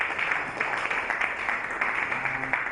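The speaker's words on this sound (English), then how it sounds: "Can we clap for ourselves?" Attendees at a 42nd anniversary school reunion in a Lagos classroom clap together, a steady dense patter of many hands filling the room with no clear break.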